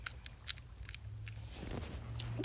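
Fidget toy clicked and fiddled with in the background, with a few faint, quick plastic clicks and snaps near the start, followed by soft rustling handling noise at low volume.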